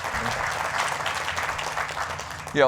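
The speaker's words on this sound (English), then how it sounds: "Yeah, you can applaud on that." An audience at a factory grand opening bursts into sustained applause, many hands clapping steadily in a large room, with a voice beginning to speak again at the very end.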